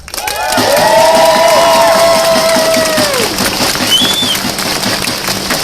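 An event audience breaks into applause and cheering for the organisers, a loud steady wash of clapping and crowd noise with a whistle-like tone riding over it early on.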